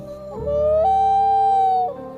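A loon's call: one long, loud, sustained wailing note that climbs in pitch, holds steady for about a second, then breaks off, with fainter tonal sound before and after.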